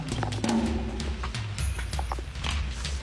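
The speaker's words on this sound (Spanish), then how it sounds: "El caballo sube solo, tenga toda confianza, el caballo sabe." Horse climbing a steep uphill trail in the rugged countryside around Futaleufú, its hooves clopping in an uneven walking rhythm close by, over steady low rumbling noise and brief outdoor sounds.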